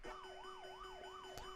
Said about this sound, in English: So start sound Pac-Man extra life, which sounds like this.